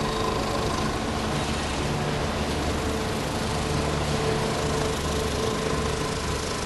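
A machine trims excess material from a pressed boot outsole at the Lucchese boot factory, giving a steady, loud, even mechanical drone and whir that runs without pause and covers the whole stretch.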